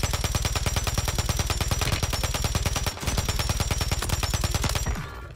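A JAK Annihilator fires in Warzone, a long unbroken burst of rapid automatic gunfire with a steady, fast rhythm. It is loud and close, with one brief hitch midway, and it cuts off near the end.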